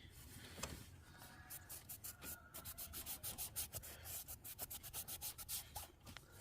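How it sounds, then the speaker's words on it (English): Rag soaked in brake cleaner rubbed briskly back and forth inside an intake port of a 2010 Audi Q5 3.2L V6 FSI during carbon cleaning, a steady run of close, rhythmic scrubbing strokes. "I spray the brake clean on a rag and then just start wiping down"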